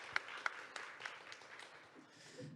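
Applause from a small forum audience at a performing arts data event, a few sharp distinct claps up front, then thin scattered clapping that trails off into quiet room noise.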